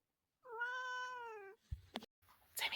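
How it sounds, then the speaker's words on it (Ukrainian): A single clear cat meow, drawn out for about a second, followed by faint shuffling and brief rustling noises close by. "Це котик."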